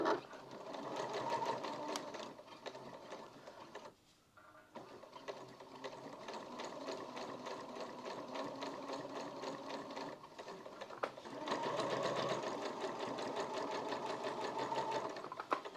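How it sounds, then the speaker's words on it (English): A sewing machine running a long straight basting stitch along a collar seam, a close, steady mechanical whirring hum that pauses briefly near the start, then continues and swells again toward the end. "I'm doing a very long straight stitch, so a basting stitch."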